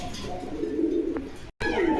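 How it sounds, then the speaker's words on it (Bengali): Caged pigeons, fancy breeds for sale, coo softly and close in a low rolling murmur, with a brief cut in the sound near the end before the cooing resumes. "কবুতরের ডাক দেখেন"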